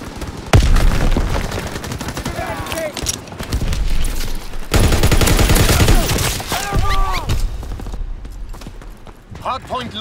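Rapid bursts of gunfire in the Call of Duty: WW2 beta during a hardpoint match, loud and dense, with sharp shots over a constant rumble of battle and voices talking over the fighting.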